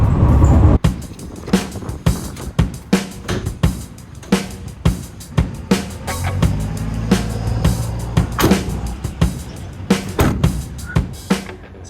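An empty Ram Promaster cargo van driving on stiff cargo-rated shocks: a low road and engine rumble broken by a steady series of sharp thumps and rattles from bumps, loud and close inside the cabin.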